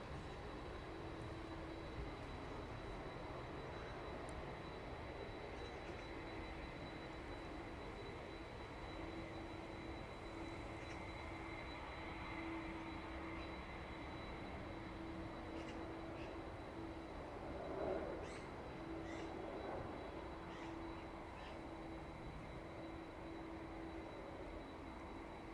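A steady, broad jet-engine roar from an airliner taxiing onto its stand at East Midlands Airport in the evening, even and continuous at moderate distance, with no voices.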